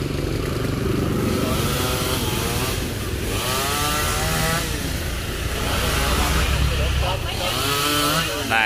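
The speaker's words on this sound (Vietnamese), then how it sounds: "bắt đầu anh cưa mấy cái nhánh nhỏ nha các bạn" A chainsaw cuts small branches off a roadside tree on a busy street with heavy traffic, its steady buzzing engine droning continuously under nearby talk and road noise.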